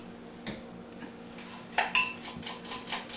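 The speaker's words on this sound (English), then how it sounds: "we're going to clean this cream bowl right out" A spoon scraping out a bowl of horseradish cream, giving several short metallic clinks and scrapes. The sounds grow louder and quicker toward the end, close up and alone.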